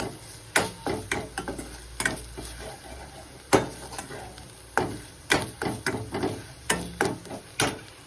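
A spoon scrapes and knocks in a pan as goda masala and coriander powder are sautéed, giving repeated sharp taps and scrapes in an uneven rhythm over a low background.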